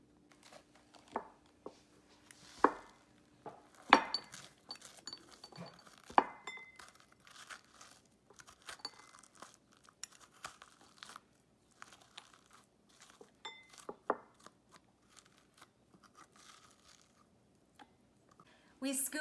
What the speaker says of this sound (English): We scoop the seeds out of our kabocha.